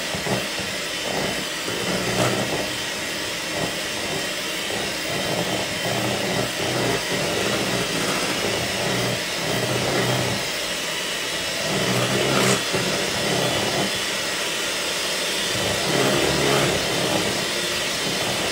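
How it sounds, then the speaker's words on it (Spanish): A continuous loud motor whir with a broad hiss runs throughout, like an electric mixer held close, steady without pauses. "no me voy a escuchar durante un segundo porque obviamente voy a prender la batidora"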